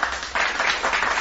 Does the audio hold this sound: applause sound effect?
yes